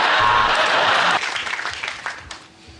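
Studio audience applause on a British comedy panel show, loud at first and then breaking off abruptly after about a second, leaving scattered claps and murmurs that fade toward silence.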